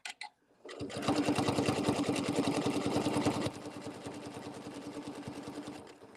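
A sewing machine stitches applique fabric in one continuous run of fast, even needle strokes, close and steady, slowing slightly near the end, with no talk over it.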